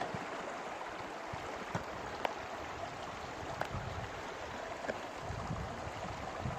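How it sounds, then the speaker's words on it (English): Water rushes steadily through a gold sluice box beside the Yuba River, a continuous close gurgling wash with a few faint knocks and no talking. "So I'm going to run it through this sluice because I didn't see a lot in it."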